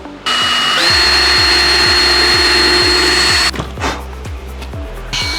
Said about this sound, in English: I gotta do the same thing and drill out that hole